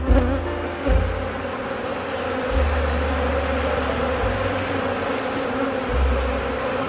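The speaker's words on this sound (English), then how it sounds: "A lot of bees emerging." Honeybees buzz steadily over a frame of capped brood as young bees emerge, a dense close hum with a few louder passes from individual bees near the comb.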